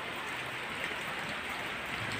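Steady rain pours down outdoors beside a Mitsubishi L300 van project, a dense, even hiss of drops with no pauses or voices throughout.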